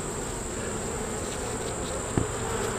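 Honeybees buzz steadily around an open beehive on a farm, some showing deformed wings; a continuous, close insect hum runs throughout with one brief knock near the end.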